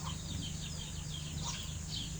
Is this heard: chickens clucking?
yes